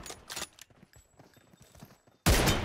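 Brief burst of gunfire from PUBG Mobile, loud and close after a quieter stretch of scattered faint shots and clatter.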